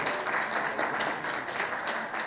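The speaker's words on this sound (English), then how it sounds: "Let's give Danny another big round of applause" An audience at an entrepreneurship talk in Jamaica claps together, a dense, continuous round of applause filling the room with no talking over it.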